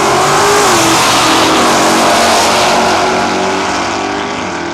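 Nostalgia gas drag racing cars launch down the strip at Cayuga, Ontario, their engines roaring loud and continuous as they accelerate, with the sound thinning slightly as they pull away.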